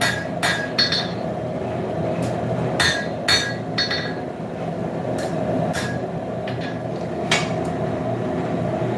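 Hammer blows ring out on hot steel as horseshoes are forged into letter openers in a shop, a run of sharp, bright metallic strikes at irregular intervals over a low steady hum, fairly close.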